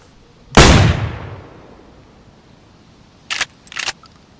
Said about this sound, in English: I'm gonna fire the gun in the air.